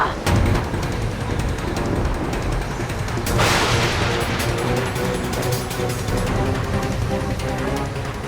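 Loud, dense blasts and crackling bursts roll on continuously, with a sharp boom surging midway through the clip.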